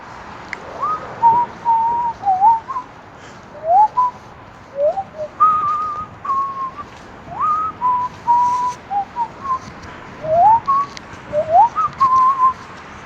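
A person whistles a short, wandering tune in clear separate phrases, close and fairly loud over a quiet background hiss.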